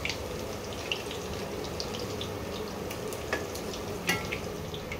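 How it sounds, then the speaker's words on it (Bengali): Chopped banana flower pieces frying in oil until reddish: a soft, steady sizzle with occasional small crackles and pops, fairly faint, with no talking. "একটু লাল লাল করে ভাজতে হবে"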